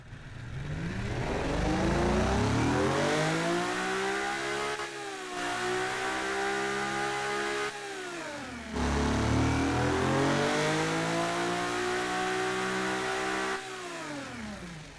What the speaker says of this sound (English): Oh wow, that's a cool sounding engine.